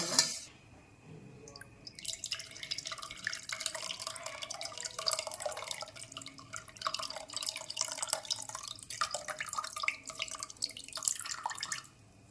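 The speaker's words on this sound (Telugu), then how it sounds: "మనం పప్పులో చింతపులుసు పోసుకుందాం" Tamarind juice is poured into a pot of cooked moong dal with ponnaganti leaves and grated carrot. It makes a soft, steady liquid trickle and splash lasting about ten seconds, faint and alone.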